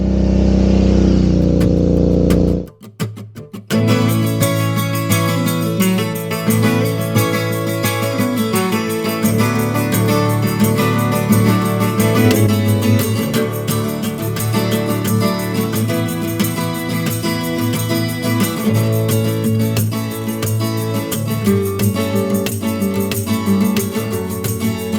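Steady road-riding engine drone of a Suzuki V-Strom motorbike on a Monday-morning ride, a continuous loud mid-pitched hum with harmonic tones after a brief opening burst of wind noise, no voices.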